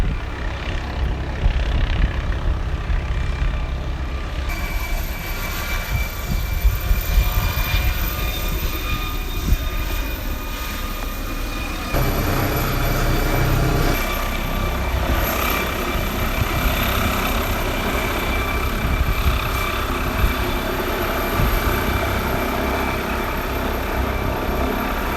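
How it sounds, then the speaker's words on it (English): A helicopter ferrying equipment over a remote graveyard near a beach in Junk Bay gives a steady, loud rotor and engine drone throughout, with high whining tones shifting partway, and no voices. "The helicopter is ferrying equipment from over there all the way to over there."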